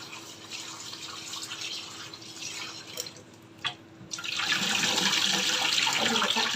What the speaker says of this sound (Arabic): نغسل الباميه بتاعتنا كويس